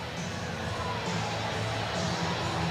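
Steady crowd roar from an arena football stadium at an Arizona Rattlers at Orlando Predators game, a broad continuous murmur of many voices with faint cheering swells, no single voice standing out.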